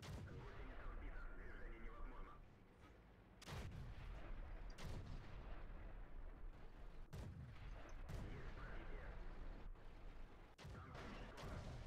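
Tank guns firing in a physics-testing video game, several heavy booming shots spaced a few seconds apart over continuous low rumble.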